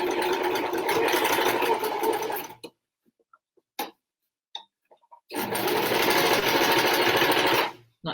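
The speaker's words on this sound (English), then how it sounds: "Right, so sewing all the way around." A sewing machine stitches all the way around a hessian plant pot, running in two steady continuous bursts of close mechanical chatter separated by a quiet pause with a few small clicks.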